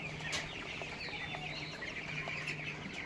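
A flock of 1000 CP Ross broiler chicks, 21 days old, chirps steadily in a farm shed. The high, dense chirping continues throughout, with occasional clucks and no talk.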